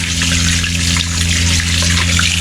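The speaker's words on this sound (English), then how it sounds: "I have the water pump on now, and this should keep it at a nice 38 degrees" Hot water runs steadily from a tap in a 2018 Travato camper van with the water pump switched on, a close, even hiss and splash with a constant low hum beneath, no talking.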